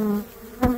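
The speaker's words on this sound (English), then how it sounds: "These bees sure are flighty on this comb." Honey bees buzzing on comb built out on unwaxed foundation, a close steady hum with one louder buzz as a bee flies right past.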